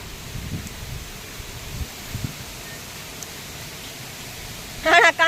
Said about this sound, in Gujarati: પવન આવ્યો